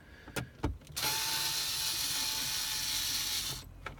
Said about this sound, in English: in my case I've got one of these portable screwdrivers